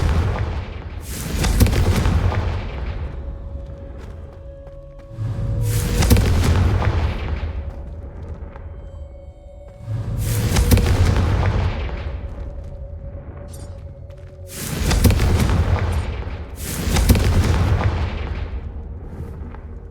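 Fiery Confringo explosion spells cast in the Hogwarts Legacy video game, four heavy booming blasts at steady intervals, each a loud roaring burst that rumbles and decays before the next.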